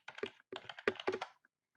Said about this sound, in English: what I'm going to do is I'm going to type in fitness.